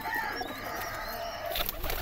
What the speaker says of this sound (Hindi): डब वाले कबूतर हैं